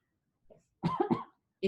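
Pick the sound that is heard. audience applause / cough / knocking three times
cough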